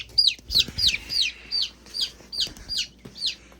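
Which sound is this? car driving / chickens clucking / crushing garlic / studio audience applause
chickens clucking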